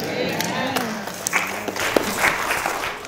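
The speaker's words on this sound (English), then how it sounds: "I like the clap, affirming that she's agreed to marry you." Wedding guests clap after the bride answers her vows, a scattered, moderately loud round of applause mixed with murmuring voices and some talking over it.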